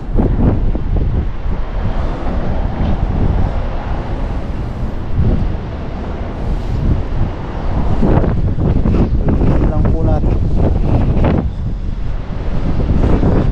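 Strong wind buffets the microphone in heavy, continuous rumbling gusts, with surges of louder blasts partway through.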